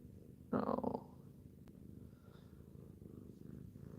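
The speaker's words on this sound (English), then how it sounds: "I love to hear her purr." A cat purrs up close in a loud, rumbling burst lasting about half a second, then fades to a faint, steady background hum.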